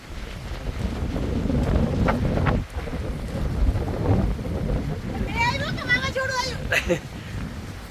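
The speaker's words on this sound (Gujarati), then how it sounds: "વાવાઝોડા જેવો પવન આવ્યો" Strong gusty storm wind roars against the microphone throughout, with a person speaking over the buffeting noise.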